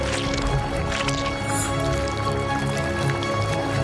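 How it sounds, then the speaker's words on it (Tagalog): Blueberry juice being stirred into a mixture during a cooking challenge, a continuous wet squishing and sloshing at close range with no talk. "Paghaluin natin lahat ng mabuti."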